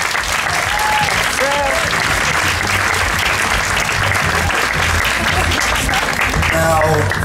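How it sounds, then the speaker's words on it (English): Audience at a Guerilla Science dinner party during the Cambridge music festival bursts into loud, steady applause, dense clapping that fills the room and swells slightly near the end, with a few voices mixed in. "So let's have a big round of applause for this party."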